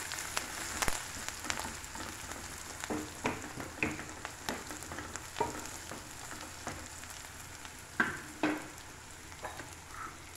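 Cashews fry in a pan for a tomato drumstick cashew curry, a soft, fairly quiet sizzle with irregular light clicks and scrapes from stirring throughout.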